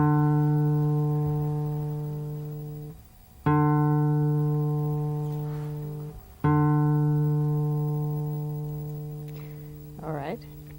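A single plucked acoustic folk guitar string rings out three times during tuning, each note sustaining and slowly fading before the next pluck, with a brief voice near the end.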